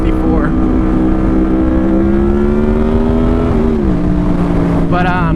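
Honda VFR800 motorcycle on the move on a cool day, its engine holding a steady, loud drone that shifts pitch slightly as the rider eases off near the end.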